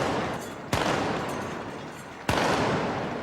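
Two loud field gun shots at a naval field gun competition, about one and a half seconds apart, each a sharp blast followed by long rumbling echo over steady crowd and outdoor noise.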